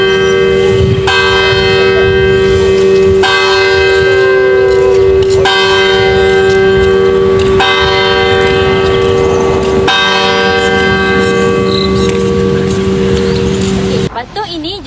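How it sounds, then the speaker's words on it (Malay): A statue clock in Ipoh, Perak, with one main bell and four small bells, chimes the hour in loud, sustained ringing strokes that overlap and resonate continuously, with traffic and a voice faintly beneath before the ringing cuts off near the end. "patung ini mempunyai 1 loceng utama dan 4 loceng kecil yang memberikan bunyi pada setiap jam genap"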